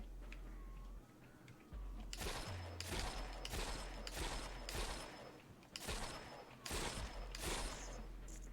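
Rapid volleys of gunshots in an indie horror video game, loud broadband bursts firing in several rhythmic clusters over a steady low game drone.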